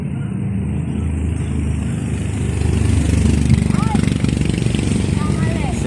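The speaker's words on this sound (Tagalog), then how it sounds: "Mahirap tumawid kasi yung mga sasakyan dito dumadaan talaga" Steady roar of cars and motorbikes passing on a busy street in Valenzuela City, a continuous loud traffic drone with engines swelling by, heard alongside people talking.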